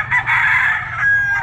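A young gamefowl bull stag, about 18 months old, with a gold straight comb, black plumage and yellow legs, crows once in a loud, close, drawn-out call that lasts just over a second.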